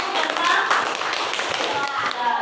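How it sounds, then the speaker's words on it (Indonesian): Children in an Indonesian primary classroom clap their hands together at a teacher's call, a dense steady burst of applause lasting a couple of seconds, with a few young voices faintly under it. "Oke, tepuk tangan dulu."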